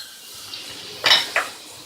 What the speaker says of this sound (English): To this, I will add my garlic.